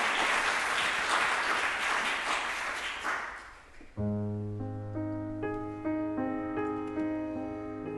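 Audience applause at an outdoor villa concert following an operatic aria, a dense clapping wash that fades after about four seconds as piano chords enter, repeated sustained notes taking over.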